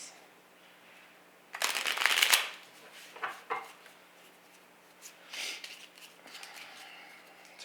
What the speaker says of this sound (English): Kind of gather these up, and shuffle.